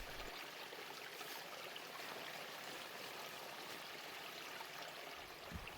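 A small mountain stream flows faintly, a soft continuous hiss of trickling water heard from a distance with no voices.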